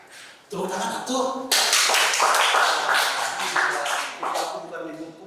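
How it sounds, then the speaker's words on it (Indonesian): Applause for a guest on a campus talk show about bullying among students, a loud wash of clapping that swells in after a brief spoken greeting and carries on with voices mixed in. "Tepuk tangan tuh."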